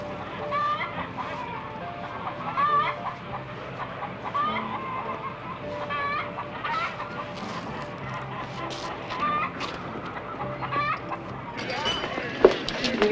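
Chickens cluck continuously at close range, with repeated short squawks and calls breaking through a busy, steady barnyard chatter.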